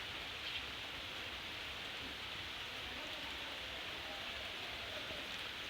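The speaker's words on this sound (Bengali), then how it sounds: "আবারও বৃষ্টি চলে এলো" Steady rain falling outside near a veranda where a pet myna bird is kept, a constant broadband hiss at moderate level with no distinct drops or voices.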